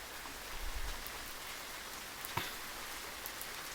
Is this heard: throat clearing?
no